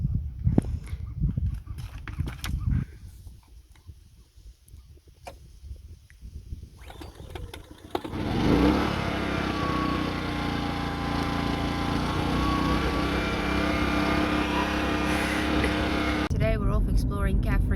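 A vehicle engine, run after a loose bolt was tightened and still not catching every time, sputters and knocks irregularly before roaring into a loud steady run for several seconds and then cutting out, with voices heard at the start.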